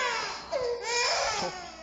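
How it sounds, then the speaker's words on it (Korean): An infant cries in a Christmas skit, a wavering, sobbing wail rising and falling over about two seconds, fairly close and alone with no talk. "아기 울음소리인데?"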